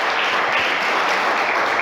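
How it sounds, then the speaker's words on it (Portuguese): A church congregation applauds the Lord during a worship service, producing a brief, loud, dense wash of clapping with no speech over it. "Você pode aplaudir ao Senhor?"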